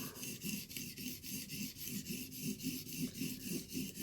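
A steel blade edge rasps back and forth across a sharpening stone in a steady rhythm of about three strokes per second, each pass a close, gritty scrape, with no voices.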